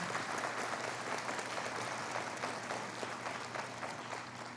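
Church congregation applauds a newly introduced pastor, a steady, somewhat distant wash of clapping for a few seconds in a reverberant hall.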